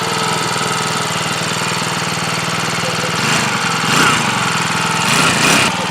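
A kids' mini dirt bike's small pull-start engine idles close by with a loud, steady rattling drone that swells slightly a few times as the idle settles, with no talking.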